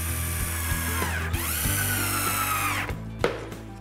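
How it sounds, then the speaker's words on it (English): A power drill drives screws into wood during a home furniture fix, its loud motor whine rising and falling with brief pauses and bursts as each screw bites in close to the microphone. "and then drill away"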